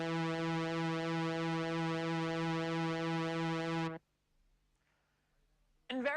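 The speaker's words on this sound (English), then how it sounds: "This is called pulse width modulation" Synthesizer pulse wave with its pulse width swept by an LFO, a bright buzzy sustained tone with dense harmonics that holds for about four seconds, then cuts to near silence before a brief second burst starts.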